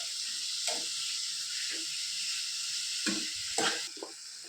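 Onion and bombil (Bombay duck) fish frying together in a pan, a bright, steady sizzling hiss with intermittent scraping stirs and soft clatters, louder bursts of stirring toward the end.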